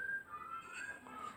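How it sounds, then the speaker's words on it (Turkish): A faint, thin whistled tune wavering up and down in short phrases, quiet and somewhat distant in a room. "Arkadaşlar ıslık sesi geliyor olabilir."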